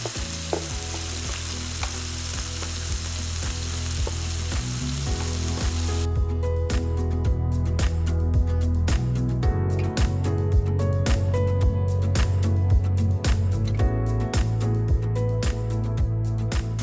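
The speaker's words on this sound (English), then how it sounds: "Just kind of searing these right now." Small beef pieces sear violently in hot oil for beef with broccoli, a loud continuous close-up sizzle and crackle that intensifies partway through, with stirring scrapes and no talking.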